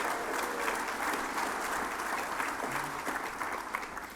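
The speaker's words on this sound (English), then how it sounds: "Round of applause." Audience at a Good Scout Award luncheon applauding, a sustained wash of many hands clapping at moderate distance, even and continuous throughout.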